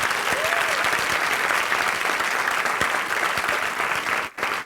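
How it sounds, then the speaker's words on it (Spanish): A church congregation applauds in a dense, continuous wash of clapping that holds steady, then briefly dips and resumes near the end. "Dale un aplauso al Señor si está conmigo."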